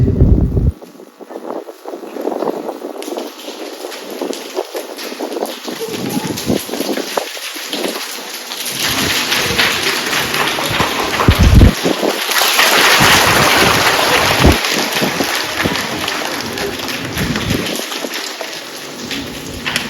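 At a school bag distribution inauguration in Attappadi, a group taps fingers on their palms to imitate rain. The patter starts sparse, swells into a dense, loud roar like a downpour, then thins out again.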